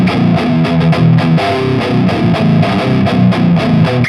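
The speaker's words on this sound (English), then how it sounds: "switch it to the metal position, and then with no reverb, and we get really dry sounds" Heavily distorted electric guitar played through a BluGuitar AMP1 on its metal setting with noise gate and no reverb, tight chugging riffs with dry, loud, choppy attacks and no talking.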